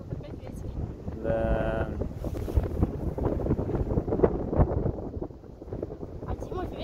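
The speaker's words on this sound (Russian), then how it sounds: "Тут опять ветер." Steady wind buffets the microphone outdoors at a jump site, a continuous rumbling roar under people talking, with a brief whistling tone early on.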